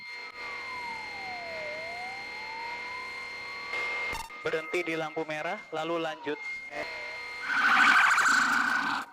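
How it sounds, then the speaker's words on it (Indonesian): Ambulance siren wailing in stopped traffic at a red light, steady and fairly loud throughout, with a person talking over it partway and a burst of louder traffic noise near the end. "Ambulans terjebak macet."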